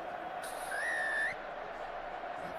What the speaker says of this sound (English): The whistle goes and Wales go into the changing room at half time